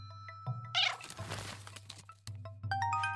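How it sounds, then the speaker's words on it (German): A cat meows several times in the puzzle game A Little to the Left, with short bright calls over a low steady hum, plus a thunk and a few light game chimes near the end. "Ey, du dämliche Katze!"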